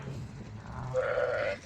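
Sheep of the Tatali breed penned on a farm, with a single clear bleat rising near the end over low rustling and background farm noise.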